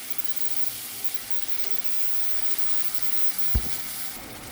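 Chicken giblets stir-frying with holy basil in a pan, a steady soft sizzle throughout with a brief utensil knock near the end, no talking.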